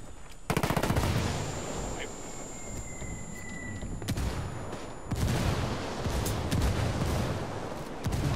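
Sustained gunfire in the tactical shooter Ghost Recon Wildlands: dense rapid bursts of automatic shots crackle continuously for several seconds, loud and close, with brief gaps and a heavier surge near the end, over a steady battle din.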